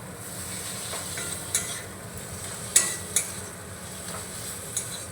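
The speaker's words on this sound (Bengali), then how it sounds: "কসুরি মেথিটা এইভাবে হাতে ক্রাশ করে দিয়ে দেব, ফ্লেভারটা ভালো আসবে। মিশিয়ে নেব ভালো করে।" Tomato masala with crushed kasuri methi cooks in a pan, giving a low, steady sizzle with a handful of spaced spatula scrapes and taps, fairly quiet throughout.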